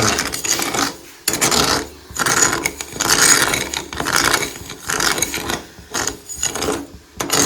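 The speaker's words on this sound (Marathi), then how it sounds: "त्या चमच्याने आपल्याला खायला अशा पद्धतीने ढवळत राहायचं" A serving spoon stirs a thick sweet ghati mixture in a pot, steady scraping and clattering strokes in a repeating rhythm with short pauses, close and fairly loud, with no talk.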